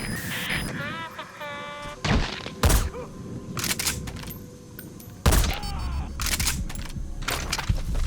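Gunfire and heavy thuds in Metal Gear Solid V: The Phantom Pain, several loud bursts and impacts breaking through game sound effects, beeps and background noise.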